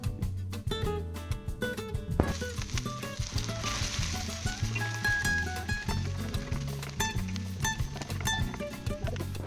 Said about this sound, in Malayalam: കുറച്ച് കൊച്ചുള്ളിയോ അല്ലെങ്കിൽ സവാളയോ അരിഞ്ഞത് ഇട്ട് കൊടുക്കാം നല്ലതുപോലെ ഒന്ന് ഇതൊന്ന് വറുത്തെടുക്കാം